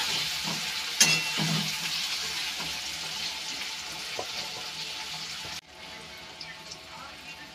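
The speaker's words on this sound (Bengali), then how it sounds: "একসাথে ভেজে নেব। পেঁয়াজের সাথে আলুটা।" Potatoes and onions fry together with salt and turmeric, a continuous close hiss of sizzling oil with an occasional knock of a spatula, dropping to a quieter sizzle near the end.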